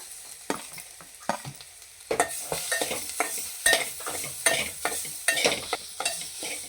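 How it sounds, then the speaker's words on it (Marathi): Grated coconut fries in hot ghee for burfi, a soft sizzle punctuated by rhythmic spoon scrapes and taps that grow busier and louder as stirring picks up. "तूप गरम झालं की त्यावर आपण खोबरं किसलेलं खोबरं आहे ना ते सर्व टाकून घ्यायचं"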